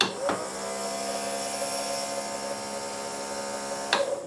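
An electric fuel pump from a 1983 Porsche 944, running loose on a bench, gives a steady mechanical whine with a buzzing hum for about four seconds, framed by brief clicks as it switches on and off.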